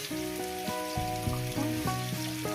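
Mola fish frying in oil with potatoes and onions, a steady close crackling sizzle that holds evenly throughout with no voices.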